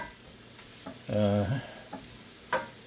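A spoon stirs Goya Sazon into cabbage and kielbasa in a Lodge enameled cast iron pot, with a low sizzle, a few scraping knocks and a brief clunk in the middle.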